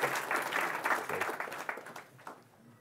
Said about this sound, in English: May I have a round of applause for Marwan here?